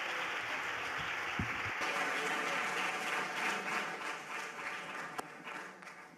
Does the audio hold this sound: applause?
yes